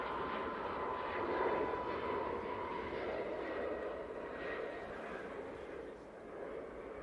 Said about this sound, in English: Just had a KLM arrive.